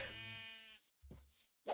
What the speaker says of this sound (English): we come upon these innocent sheep